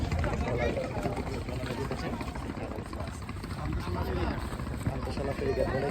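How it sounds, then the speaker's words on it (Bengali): A trawler boat engine drones on the Meghna river with a dense, steady roar and rumble, and a voice talks over it. "এই যে ট্রলার চলতেছে, এই ওদিকে ট্রলার, মানুষ পারাপার করে"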